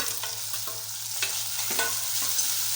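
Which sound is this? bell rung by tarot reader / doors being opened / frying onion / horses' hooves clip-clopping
frying onion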